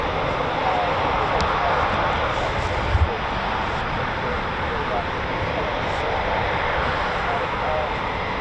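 A Eurofighter Typhoon FGR4 jet departing from an RAF station gives a steady, broad, loud roar that holds unbroken throughout, with one brief click partway through.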